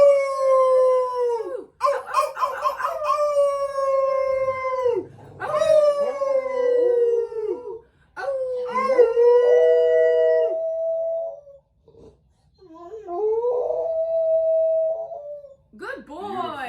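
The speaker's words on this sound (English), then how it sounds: "shout out our dog with a howl moment" Charlie, a dog, howls loudly and up close in long, wavering, drawn-out tones, breaking into several separate howls with short pauses and a few yips between them.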